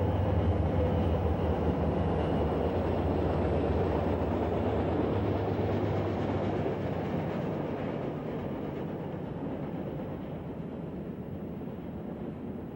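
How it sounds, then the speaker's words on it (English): A BNSF freight train rumbling past, a loud, steady, broad roar with a deep low hum that slowly fades over several seconds, with no voices. "a Burlington Northern Santa Fe freight rumbles by"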